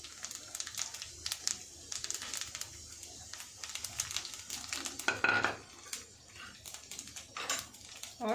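Whole spices (bay leaf, star anise, cumin, cinnamon and dried red chillies) fry in oil in a pan for a cabbage egg curry. The crackle is faint and uneven, with scattered clinks and scrapes of stirring near the end.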